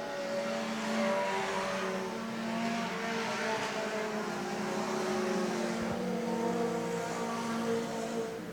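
Junior Sedan race cars pack together on a circuit, their engines a layered, droning roar that swells and fades over several seconds as the field runs down the back straight, heard from trackside at moderate distance.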